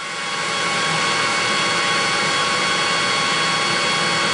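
A 2002 TurboChef C3 commercial microwave-convection rapid cook oven warming up gives off a steady, loud fan whoosh with an even electrical hum, unbroken and close for the whole stretch.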